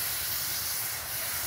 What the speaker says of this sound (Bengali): এই মটন দেওয়া হচ্ছে এবারে কড়াইতে,